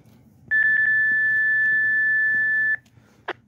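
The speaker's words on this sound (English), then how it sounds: "That little beep is 2 o'clock beep." A single sustained electronic beep marking 2 o'clock, lasting about two seconds, preceded by a few quick pips, then a short click, over faint background hum.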